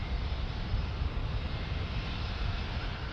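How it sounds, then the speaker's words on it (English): An Allegiant airliner from Medford, Oregon, heard at San Diego airport as a low, steady engine rumble, moderately faint and continuous, with no talk over it. "we got an Allegiant from Medford, Oregon"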